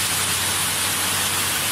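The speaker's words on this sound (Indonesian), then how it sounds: "Hujan." Steady rain falls in a continuous, dense hiss, loud and even throughout with no breaks and no voices.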